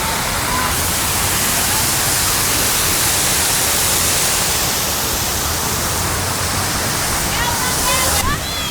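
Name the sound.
water fountain display in Chicago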